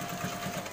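A sewing machine stitches a pocket onto fabric, a brief, quiet, rapid mechanical whir heard on its own.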